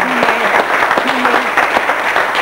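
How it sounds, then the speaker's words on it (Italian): Dense audience applause in an opera concert setting after a performance of Puccini's Turandot, steady and loud throughout with a few voices faintly audible beneath the clapping. "signori, un applauso."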